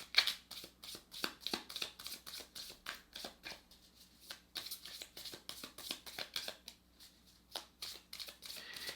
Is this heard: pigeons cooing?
no